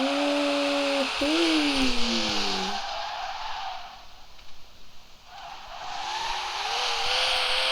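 A car engine revs hard, its pitch climbing and then jumping at a quick gear change before the sound drops to a quieter rumble. The engine then winds up again near the end, close and loud.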